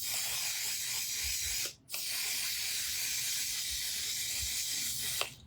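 Makeup setting spray hisses from a bottle in one long continuous burst, close and steady, with a brief break midway before the spray resumes.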